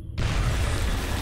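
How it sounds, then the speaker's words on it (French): A grenade blast in XCOM Enemy Within, one loud, dense booming burst that starts abruptly and rumbles on without fading through the short moment. "On va lancer la grenade."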